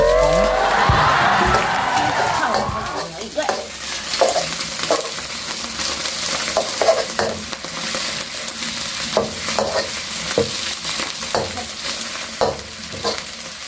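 Fried rice being stir-fried in a pan, with a loud sizzle up front and repeated scraping clanks of the utensil against the pan throughout, steady and close.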